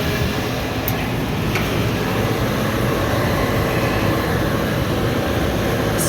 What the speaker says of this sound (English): that's why our planes are flying over